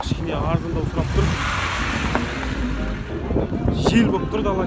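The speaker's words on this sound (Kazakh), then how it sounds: "Жел болып тұр, дала кешіріп тұраймыз." Gusty wind buffets the microphone outdoors at an open-air used car market in Kyzylorda. The low rumble is steady and loud, and people talk over it with some car noise in the background.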